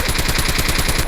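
Rapid, evenly spaced gunfire in Call of Duty Mobile, a sniper rifle named in the match, fires a steady string of loud shots over about a second with no talking.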